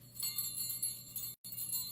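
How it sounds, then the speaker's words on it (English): Jingle bells are shaken in a steady bright tinkling that runs continuously, cuts out for a moment, then resumes, fairly faint and with no talking. "Do you jingle your bells all the time?"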